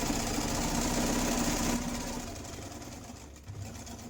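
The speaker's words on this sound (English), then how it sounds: "I am just going to do a straight stitch and I'm going to go around a couple of times." A sewing machine runs a straight stitch around a circular line on fabric for a fall leaf wreath pillow cover, a steady close motor whir that slows and fades after about two seconds.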